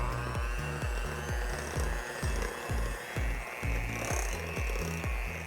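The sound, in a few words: whisking eggs into pound cake batter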